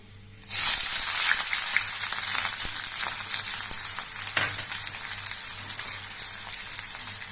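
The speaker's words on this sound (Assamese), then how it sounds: "ইয়াতে মই পিঁয়াজ, জলকীয়া আৰু নহৰু দি দিছোঁ।" Onion, green chili and garlic hit hot oil in a kadai wok and erupt into a loud, steady sizzle that starts abruptly and holds close and constant throughout.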